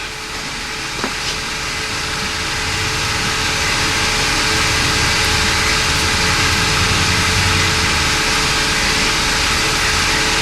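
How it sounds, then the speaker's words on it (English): A VHT Technologies vapor honing cabinet runs loud and steady, a dense broadband hiss and whoosh over a continuous motor drone, close by and without talk. "So that's our new vapor hone."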